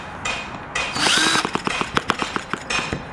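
A Retrol 1140 engine pops into life after a short whirring start attempt, then fires in a rapid run of loud, uneven bangs close by.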